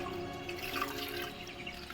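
Water from a hot spring flows through a pipe into a stone tank, making a soft, continuous trickling and splashing with small drips. It stays faint and steady, with no talk.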